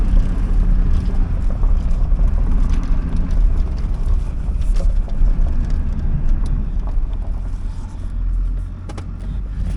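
A Duramax diesel truck engine runs steadily in a low, constant rumble with a deep throbbing drone and light wind noise, no voices, the sound staying even throughout.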